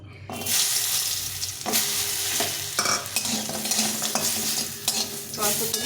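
Lentil dumplings (bori) coated in salt and turmeric fry in hot white oil, giving a loud continuous sizzle close by, broken by repeated clattering stirs of a spoon against the pan.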